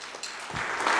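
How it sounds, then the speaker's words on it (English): Applause from a crowd at a middle school band concert, starting lighter and swelling into fuller clapping by the end. "Can we have one more round of applause for all these students?"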